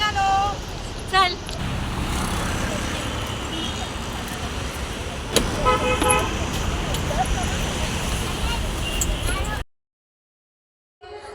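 A hired bus sets off on a road trip to Alibag, with a continuous rumble of engine and road noise, a few short horn toots and passengers talking over it before an abrupt cutoff.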